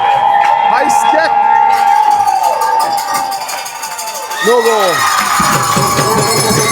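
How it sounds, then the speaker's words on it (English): Hockey arena crowd at a Southwest Jets versus Blizzard game cheering and whooping in a steady, loud roar, with a cowbell clanging and a brief swell near the end; a commentator speaks over the noise. "Not sure why we're cheering"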